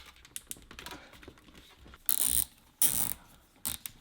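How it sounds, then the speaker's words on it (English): Zip tie cinched tight on a motorcycle camera mount, close quick ratcheting clicks that build into several loud zipping bursts, with short pauses between pulls. "And then we can just run a zip tie underneath here."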